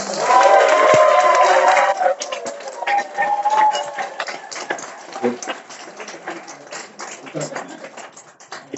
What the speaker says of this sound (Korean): 멋진 강연 해주셨다고 뜨거운 박수 한번 부탁드립니다